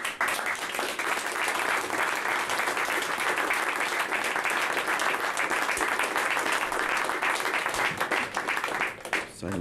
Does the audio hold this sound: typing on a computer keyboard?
no